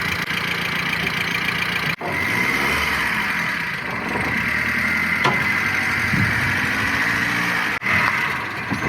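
A Saab 9000 car engine runs steadily while the car is driven onto a tow dolly, a continuous mid-pitched hum with a couple of brief dropouts, close and alone without talk.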